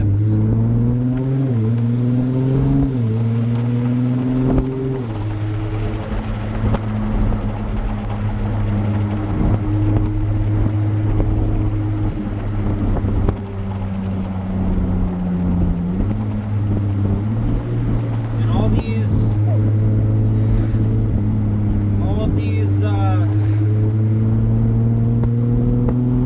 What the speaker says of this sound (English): You guys can already hear that the downshifts are starting up, and now there'll be a lot more harsh shifts.